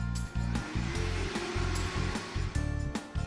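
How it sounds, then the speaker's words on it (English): A steady, loud whooshing motor roar with a pulsing low hum underneath, like a vacuum cleaner running nearby. "A vacuum cleaner."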